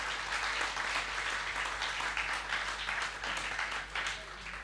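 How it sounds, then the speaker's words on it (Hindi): An audience at a Hindi poetry recital claps steadily, a dense continuous wash of applause from a crowd that holds at even loudness for several seconds, with a faint voice underneath. "तालियां बजाइए नवीन जय हिंद के लिए"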